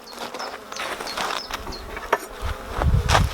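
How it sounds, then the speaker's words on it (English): Honey bees buzz inside a hive super in a UK apiary, a dense close hum with light handling knocks and a fuller rumble toward the end. "the bees have started coming up into the super"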